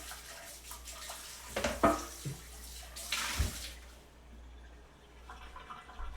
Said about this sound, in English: We're gonna rinse off our green pan.